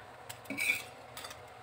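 Soft clinks and light scrapes of cookware as fried fish goes into a pan of soy sauce and brown sugar for escabeche, faint and brief metallic taps in a quiet kitchen with no speech.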